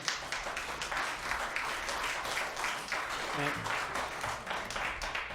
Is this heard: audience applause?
yes